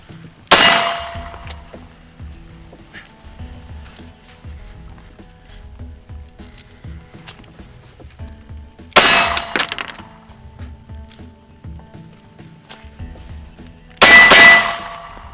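Three loud, sharp metallic clangs of gunshots striking steel targets, fired from inside a car, spaced several seconds apart with quiet background between impacts.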